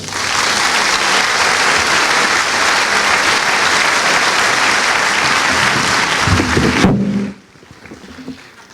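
Loud, dense applause from an audience at a church Bible conference welcoming a speaker, sustained for about seven seconds before cutting off abruptly into quiet room tone.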